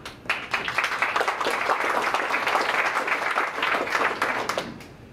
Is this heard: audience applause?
yes